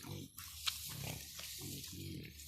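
A farmed wild boar grazes on grass in an open field, giving a series of short, rhythmic grunts close by, repeated several times at a quiet level.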